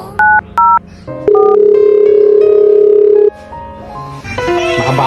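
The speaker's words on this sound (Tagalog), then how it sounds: "Kaya yata si Baba, makatawag muna" Phone tones on a call placed home from abroad: two short dial beeps, then a long steady ringback tone for about two seconds, followed by a few stepped keypad-like tones and busier game-style sounds at the end.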